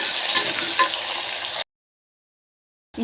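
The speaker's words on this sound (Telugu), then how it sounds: "ఆనియన్స్ అంతా కూడా చక్కగా ఫ్రై అయ్యాయండి" Chopped onions for tomato rice fry to golden brown in a hot pan with a steady, close hiss for about a second and a half, then cut to silence.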